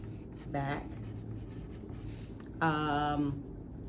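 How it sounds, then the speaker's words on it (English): Pencil scratching a grain line onto a paper blouse sewing pattern, a close continuous scraping heard under two short bursts of a person speaking. "So I'm just drawing my grain line parallel to my center back."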